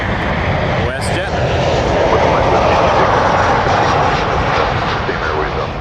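A WestJet jet airliner at Toronto Pearson roars loudly and steadily close by, its engine noise filling the whole stretch, with a voice briefly over it.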